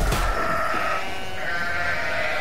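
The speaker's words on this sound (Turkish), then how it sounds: "Koyun sürüsü vardı, onlar geçti de." A flock of sheep bleats on a rural road near Isparta, Turkey, several overlapping wavering bleats, loud and close at first and continuing more faintly over a steady background, without speech.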